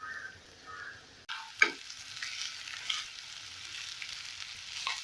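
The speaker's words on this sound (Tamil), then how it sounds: "இப்போ இதுல சேர்த்து கிளறி விட்டுக்கலாம்." Egg rice being stirred in a frying pan, a soft steady sizzle with a sharp spatula scrape and a few scraping strokes over the frying hiss, no talking.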